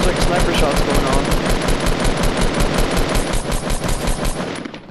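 Rapid, dense gunfire from a Fortnite match near a looted supply drop, sniper shots mixed into a continuous loud rattle of repeated bursts that fades slightly at the end, with a voice faintly present underneath.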